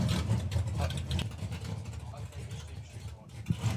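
A drag racing car with an unhealthy, rough-running engine at a FIA FIM drag racing event, a low uneven engine rumble heard from a distance, mixed with commentary.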